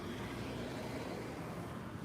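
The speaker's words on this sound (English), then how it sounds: "A lot of noise, a lot of cars, a lot of pollution, a lot of dust." Busy street traffic in Guadalajara, Mexico produces a continuous, dense roar of cars and engines. The rumble is steady and close, with no voices heard.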